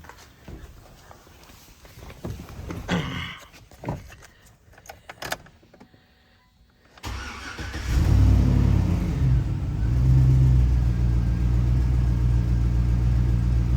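A 2008 GMC Sierra pickup with its mass airflow sensor unhooked: a few clicks and rattles in near-quiet, then the engine fires and settles into a loud, rumbling idle that keeps running steadily to the end.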